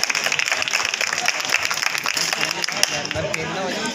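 Audience applause at a Republic Day performance show, steady dense clapping from a crowd filling the room, with faint voices mixed in.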